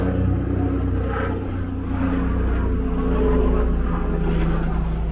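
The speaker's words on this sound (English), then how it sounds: "here goes that helicopter again." Helicopter passing over a Brooklyn street, a steady low rumble with a muffled rotor drone, moderately distant and even in loudness for a few seconds.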